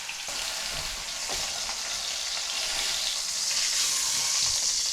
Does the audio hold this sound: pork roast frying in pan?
yes